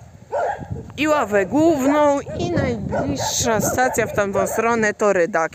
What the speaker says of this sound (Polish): Serdecznie przepraszam za te psy w tle.